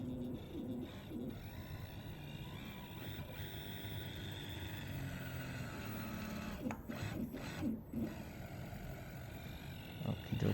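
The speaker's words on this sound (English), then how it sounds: "the motor should run and the puller should be run also" A digital puller machine's motor hums quietly and steadily, with a low continuous drone and occasional clunks and knocks toward the end.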